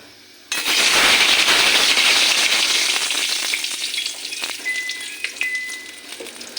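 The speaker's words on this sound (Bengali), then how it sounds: "তেলটা গরম হয়ে গেছে আমি মাছ চিংড়ি মাছগুলো একটু ভাজা করে নেব" Shrimp dropped into hot oil in a karai bursts into a loud, sudden sizzle that roars steadily, then slowly eases into lighter popping and crackling spatters.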